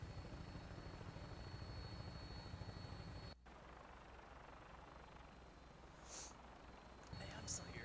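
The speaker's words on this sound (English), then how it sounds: "another vertibird in the air" A Vertibird aircraft from Fallout 4 drones overhead in game, a steady rotor-like rumble that cuts to a quieter, thinner hum partway through before returning, with faint blips in between.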